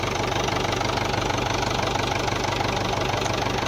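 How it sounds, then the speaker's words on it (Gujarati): A farm tractor's engine runs steadily up close, a loud, even diesel chugging with a regular low throb and no speech over it. "જો આજ મોહન ટ્રેક્ટર હાકશે"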